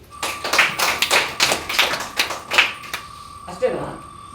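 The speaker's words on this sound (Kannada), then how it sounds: "ಚಪ್ಪಾಳೆ ಕೊಡಿ ಒಂದ್ಸರಿ." An audience at a monthly lucky draw claps for a surprise gift winner, with a brisk, uneven burst of close, sharp claps lasting about three seconds before it thins out, and a voice speaking near the end.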